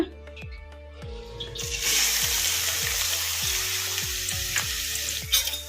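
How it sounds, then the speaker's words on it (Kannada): Finely chopped onions hit hot oil for restaurant-style handi chicken, bursting into a loud, steady sizzle that fills the rest of the clip over a repeating rhythmic beat. "ಎಣ್ಣೆ ಬಿಸಿಯಾಗಿದೆ ಈಗ ಇದಕ್ಕೆ ಸಣ್ಣದಾಗಿ ಕಟ್ ಮಾಡಿ ಇಟ್ಕೊಂಡಿರೋ ಉಳ್ಳಾಗಡ್ಡೆ ಹಾಕೋಣ"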